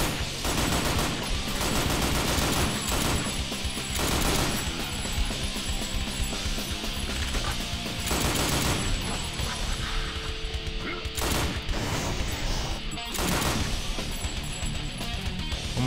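Rapid gunfire and crashing impacts in the shooter Painkiller: Reload, dense bursts of shots and smashes with barely a pause, loud and close throughout.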